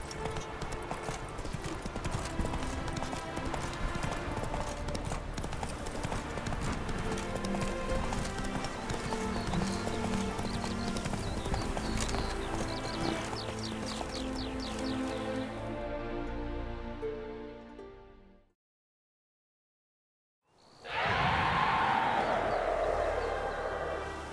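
A horse in the video game The Witcher 3 gallops in a steady stream of hoofbeats that run for about eighteen seconds, drop to a brief silence, then return loudly.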